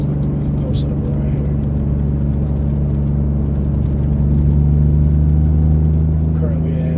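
A Mitsubishi 3000GT SOHC exhaust drones with a steady low rumble while the car cruises in third gear at about 3,200 RPM. The engine note stays even from inside the car.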